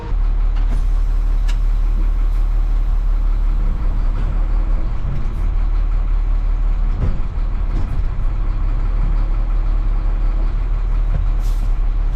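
An International 7500 truck backs slowly into a shop, its loud, close diesel rumble droning steadily throughout with faint clanks and hissing over the top and no voices.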